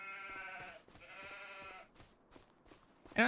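Goats bleat in the farm game Farming Simulator 25, with two drawn-out, wavering calls back to back, followed by a quieter stretch with a sharp sound at the end. The calls are moderately close, and no one talks over them.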